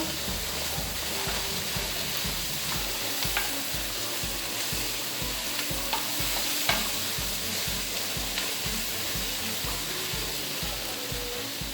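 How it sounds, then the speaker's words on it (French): Pad thai noodles stir-frying in a hot pan with the sauce mixture, giving a steady dense sizzle broken by repeated scraping and stirring knocks close by, with no talking. "Ensuite, je l'ajoute dans mon mélange pour que ça continue à cuire"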